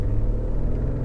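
Turbocharged 3.5-liter engine of a 2022 Lexus LX600 held against the brakes at a standstill, giving a steady, close, low rumbling drone with no talk over it.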